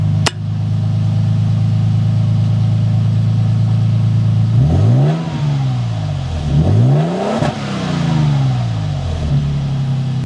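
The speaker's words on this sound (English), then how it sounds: "We'll just do a quick rev so you guys can kind of get an idea of what this sounds like." Lexus GX550 with an aftermarket exhaust: a steady idle rises into two quick revs that climb and fall, loud and close, with no talking.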